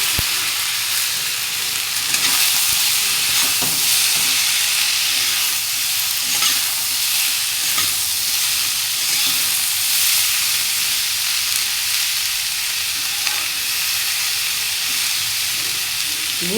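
Thin-sliced tender ivy gourd fries in oil with cumin and turmeric, a continuous close crackling sizzle with soft hiss and occasional stirring scrapes, steady throughout with no talk.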